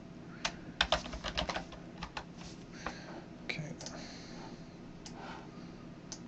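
Light clicking keystrokes on a computer keyboard as a command and password are typed, in quick irregular bursts that thin out toward the end, close and fairly quiet.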